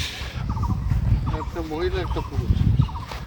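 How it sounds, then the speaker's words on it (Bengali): Two geese at a resort with deer give short, harsh, honking calls in quick repeated bursts at moderate distance, with people talking nearby. "দুটো রাজহাঁস"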